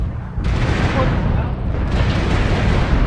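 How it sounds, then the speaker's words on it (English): A missile explosion in the MechWarrior Online game, heavy booming blasts and rumbling fire, loud and continuous through the whole stretch, with a synthetic cockpit voice warning underneath. "Warning, incoming missile."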